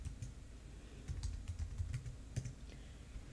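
Close, quick clicks of someone typing on a computer keyboard, entering a name into an accounting form, irregular bursts of keystrokes in a quiet room.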